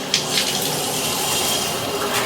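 A tub faucet being replaced is cranked fully open, and water rushes steadily from it, a continuous close splashing hiss that holds for the whole stretch with no talk.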